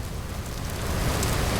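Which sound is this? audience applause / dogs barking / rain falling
rain falling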